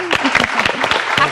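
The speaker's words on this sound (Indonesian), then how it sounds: "Boleh kasih tepuk tangan." Studio audience applause on an Indonesian TV health talk show, a short burst of clapping with voices talking over it.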